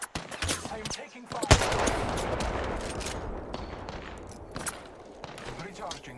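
Rapid automatic gunfire in a video game firefight: dense bursts of shots come close together and loud, with a sharp crack early on, while a voice talks over the shooting.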